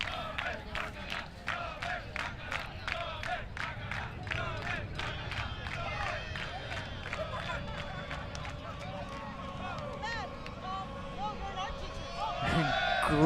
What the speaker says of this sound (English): Great wave, or at least the attempt to start it from the crowd.